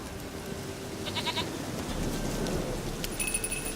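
A goat in the video game The Witcher 3: Wild Hunt bleats in short wavering calls over soft steady rain-like ambience, with a brief chime-like tone near the end.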